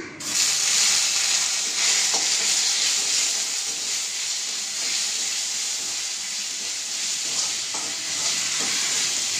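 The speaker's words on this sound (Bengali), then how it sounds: "আদাটা দিয়ে আমি একটু নাড়াচাড়া করে দিলাম" Ginger sizzles and fries steadily in a hot pan, a continuous hissing crackle with occasional scraping stir strokes, close and fairly loud throughout with no talking.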